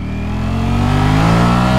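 A Ducati Streetfighter V4 motorcycle pulls away hard in first gear in race mode, its engine note climbing steadily in pitch as it revs up, loud and close with no talk over it.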